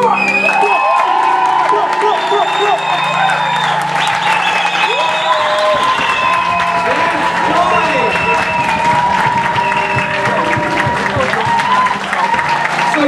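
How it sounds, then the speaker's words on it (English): An audience cheers and applauds performers at a spoken-word event, dense loud clapping under high whoops and shouts, sustained throughout. "one last huge round of applause for all 4 artists"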